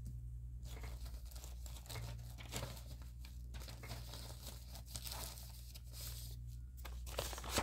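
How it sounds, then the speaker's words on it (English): Stiff brown packing paper being handled and torn as backing for stamped napkins, with close, crisp crinkling and ripping bursts over a steady low hum, no voices. "This is a bit of brown packing paper, so it's quite stiff paper."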